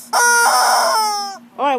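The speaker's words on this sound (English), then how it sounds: "Today we will be using a chicken that is screaming" A squeezed rubber chicken toy lets out a loud, shrill, drawn-out squawk followed by a brief pause and a second shorter wail, close and prominent, with no talking.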